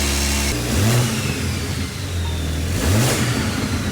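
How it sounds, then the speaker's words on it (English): A rebuilt 2023 BMW M3 turbo engine revs hard twice, each rise sweeping up in pitch with a throaty exhaust roar, settling to a rumbling idle between bursts. "you can hear that turbo"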